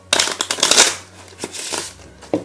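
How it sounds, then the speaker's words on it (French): A normal deck of playing cards riffle-shuffled for a mentalism trick, a dense fluttering burst of card flicks followed by softer shuffling taps and a final snap, close and clear with no talk. "un paquet de cartes totalement normal qui pourrait être empruntable, examinable et que le spectateur pourrait bien sûr mélanger"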